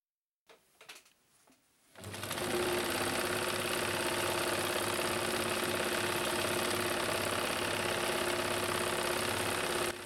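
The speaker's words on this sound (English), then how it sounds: "the machine automatically moves the fabric backwards as well as forwards to create the pattern" A Necchi Supernova Automatica vintage sewing machine runs steadily while automatically stitching a pattern, a close, even mechanical whir that starts after a few faint clicks and continues unbroken.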